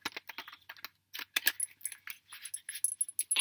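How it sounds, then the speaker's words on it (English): Oracle cards riffle-shuffled up close, giving quick bursts of crisp papery flutters and snaps separated by short pauses, with no talking. "Give them a ruffle shuffle."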